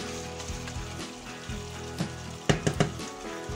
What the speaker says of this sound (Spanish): para que se vaya también friendo un poquito